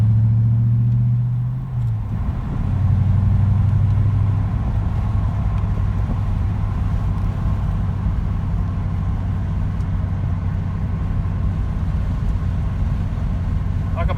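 A Fox Body Mustang with a 5.0 engine is heard from inside while driving: a steady low engine drone and road rumble with a brief dip in revs early on, then an even cruise.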